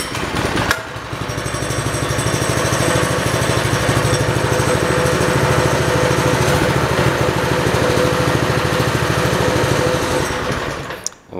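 A small Chinese Baja mini bike engine starts and runs steadily at a fast, buzzing idle, loud and close, for about ten seconds before cutting off abruptly.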